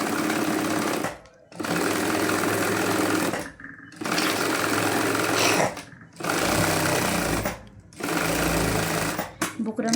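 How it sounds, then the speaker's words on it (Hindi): A sewing machine stitches along the buckram edge of a fabric neck piece in four loud, steady bursts, each separated by a short pause. "उसके बाद हमने अंदर वाले हिस्से पे सिलाई लगानी है, बुकरम के किनारे किनारे पे।"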